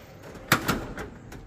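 A wrench drawer on a Snap-on Epiq 84 tool box slides open with a brief metallic rolling clatter and a soft knock, close and alone.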